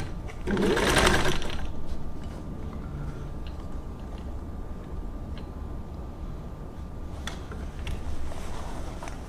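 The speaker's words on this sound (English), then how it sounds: "let's start with just seeing if we can get a straight stitch" A Singer 15-91 sewing machine runs a straight stitch, a loud mechanical whirring burst at first, then a steady rapid ticking hum that continues close and alone, with a few faint clicks near the end.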